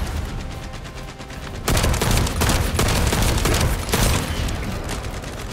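Dense, loud gunfire from the video game The First Descendant, with rapid overlapping shots and heavy bursts sustained throughout, briefly quieter at the start.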